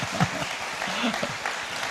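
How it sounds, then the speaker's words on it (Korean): A church congregation gives a short burst of applause during a Sunday service, a dense patter of clapping lasting under two seconds with voices mixed in. "큰 박수 감사해요."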